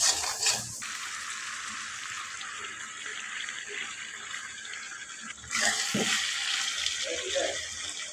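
Duck sautéing by hand in a pan with turmeric, chili, ginger-garlic and plenty of onion: a continuous sizzling hiss that swells at the start and again near the end, with voices talking at times.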